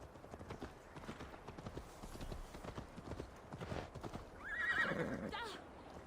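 A horse in a Viking-era game gallops with a steady, fairly quiet clip-clop of hooves, then gives a clear neigh near the end.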